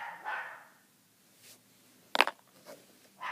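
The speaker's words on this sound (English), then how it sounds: "I swear my dogs have to bark in every video I do." Pet dogs barking faintly in another room, a few scattered short barks, the loudest a sharp burst near the middle, in an otherwise quiet indoor space.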